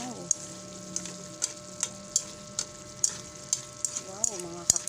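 Pork Bicol Express fries in a pan as a spoon stirs it, a regular tapping of the utensil against the pan roughly every half second over a steady close sizzle.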